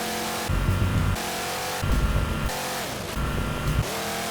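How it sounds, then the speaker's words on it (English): The Halo Warthog vehicle engine in a video game revs up in three separate bursts, each roaring briefly before dropping back to a lower hum. "The Halo 3 Warthog sounded like a force to be reckoned with."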